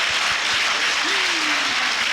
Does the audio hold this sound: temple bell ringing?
no